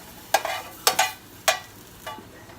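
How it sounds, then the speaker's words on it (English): Onion in a non-stick skillet for Mexican tacos gives four sharp stirring scrapes, each followed by a short sizzle burst, close and fairly loud over a quiet hiss. "And I do use a little bit of onion, so I'm going to show you in the skillet."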